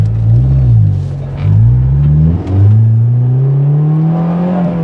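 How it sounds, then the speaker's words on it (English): A right-hand-drive JDM Honda S2000 with a Skunk2 Mega Power aftermarket exhaust idles with a deep, throaty exhaust rumble, briefly revving and settling back, loud and close. "you can hear that it has an exhaust, so it's not like it's nothing"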